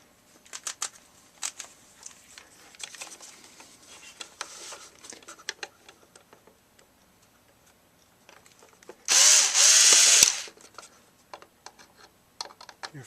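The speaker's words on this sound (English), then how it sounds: "we're gonna have to unscrew these 4 screws to get the board out" A power screwdriver whirs once in a loud, close burst of about a second while removing screws from a Kenmore LG Model 580 air conditioner control board, amid scattered small clicks and tool handling noises.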